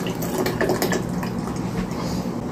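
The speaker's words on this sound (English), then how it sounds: "Just gonna pour it in." Nutriment drink poured from a can into a container for a homemade mixed drink, a steady close liquid splash and gurgle lasting a couple of seconds.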